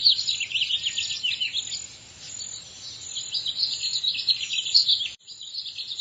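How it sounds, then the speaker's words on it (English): Chirps from a newly hatched baby bird break out in quick, high, repeated bursts that run close and steady, with a short pause near the end and insect-like buzzing underneath. "Hatching of egg and chicklet. The baby bird hatches."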